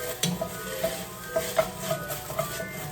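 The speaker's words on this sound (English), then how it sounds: "I currently have my garlic and onions sauteing." Garlic and onions sauté in a pan with a soft sizzle under repeated rhythmic scrapes and taps of a utensil stirring against the pan, close and moderately loud.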